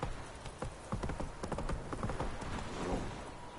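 Horse hooves clip-clopping steadily in The Witcher 3 video game, a busy, continuous trot of hoofbeats with game ambience around it and no talking.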